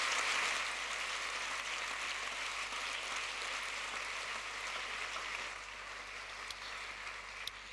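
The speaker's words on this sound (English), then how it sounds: "Please give a warm round of applause for all four candidates" Quiet, steady applause from an audience at a UN Secretary-General candidate hustings, an even, distant patter of many hands that continues for several seconds and thins slightly near the end.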